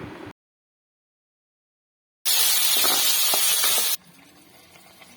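Tomatoes and coriander leaves hit hot oil in a pan while making egg drop curry, giving a loud bright sizzle that bursts in after a silent pause and then fades to a faint simmer.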